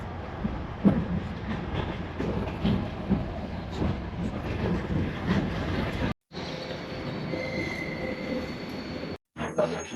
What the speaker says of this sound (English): Yeah, this is the right train.